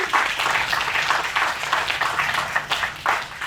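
An audience at a Juneteenth celebration and reenactment in Falmouth, Cape Cod applauds, a steady, loud wash of many hands clapping together that goes on for the whole stretch.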